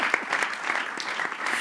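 Steady applause from a church audience acclaiming the Lord during a gathering with a music group, a dense even patter of many clapping hands throughout.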